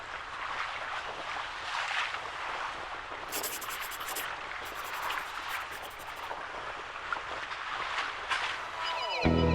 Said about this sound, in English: It's not just the sound of the wind and the waves taking over.